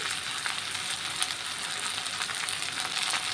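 Okra and potatoes fry in a pan with a steady, close hiss of sizzling oil that holds evenly throughout, with no voices.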